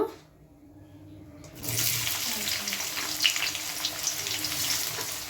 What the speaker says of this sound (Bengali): তেলটা একদম ভালো করে গরম আছে। এবার আমি পেঁয়াজগুলো দিয়ে দেব।